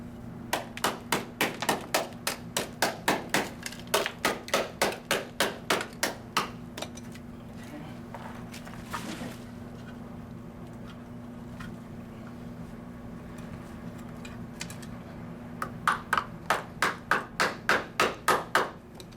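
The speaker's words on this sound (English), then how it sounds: "It's filled with plaster as well. So I'm going to break this up some more." Repeated sharp taps break up plaster filling inside weighted sterling silver, coming in quick rhythmic bursts of a dozen or so close strikes, then a long pause of scraping and handling before another rapid burst.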